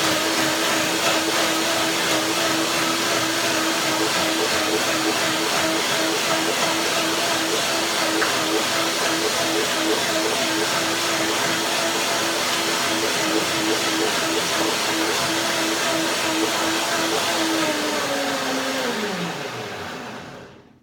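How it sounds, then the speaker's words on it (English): A blender whirs steadily, blending macadamia nut cream with a little water, a loud continuous motor drone holding one pitch for about eighteen seconds before winding down and stopping. "Now I will blend my cream with a little bit of water"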